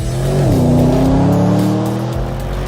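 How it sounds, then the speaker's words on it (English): A Porsche Panamera Turbo S slows into a chicane on Porsche's racetrack in Leipzig, heard from inside. The engine note drops sharply under braking, then holds a loud, steady hum as the car rolls on, with no speech. "I'm sitting in the brand new Porsche Panamera Turbo S, braking into the first chicane on the start-finish straight"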